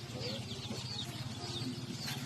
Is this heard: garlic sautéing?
no